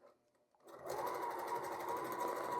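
Close up, a sewing machine starts after a brief quiet moment and hums steadily through quilt fabric, a smooth continuous whir with no voices.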